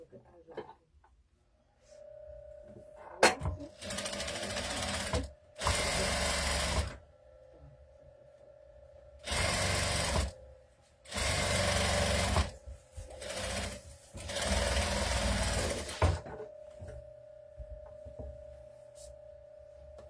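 A sewing machine stitches plush to fabric while making doll clothes and body, running in several bursts of steady whirring hum with pauses between them.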